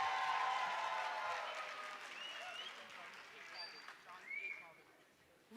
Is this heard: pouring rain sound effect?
no